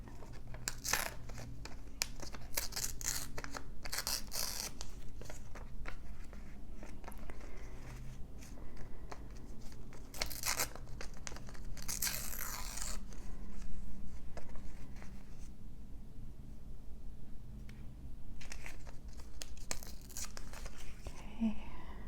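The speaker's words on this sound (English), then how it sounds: "I think I'll tear this one" Paper picture being torn and handled for a red and gold collage, a long run of close, crisp rips and crinkles in bursts with quieter pauses between.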